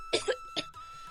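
An elderly mother coughs two or three times in quick, dry bursts, close and clear against a quiet indoor background.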